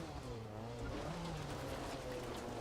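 A mid-engined Group B rally car in a racing video game, its engine droning steadily with tyre noise underneath, played back fairly quietly with no one talking.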